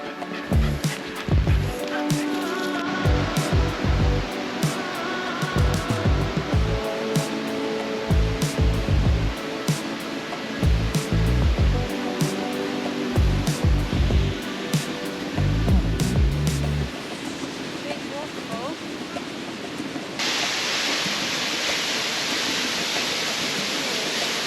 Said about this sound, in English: Behind the waterfall, we're getting drenched though.